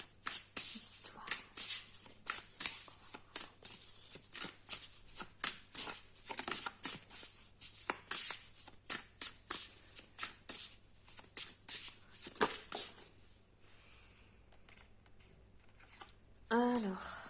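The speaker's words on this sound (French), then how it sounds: "on me dit de brasser encore parce que c'est un nouvel oracle" Oracle cards being shuffled by hand in quick rhythmic riffles for about twelve seconds, close and crisp, then a quiet stretch and a brief voice at the end.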